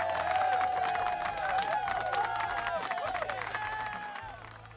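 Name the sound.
applause clapping sound effect on a livestream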